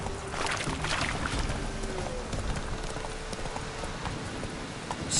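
Horse hooves clip-clop steadily at a riding pace in The Witcher 3, a close rhythmic patter over a rain-like outdoor wash, with no talking.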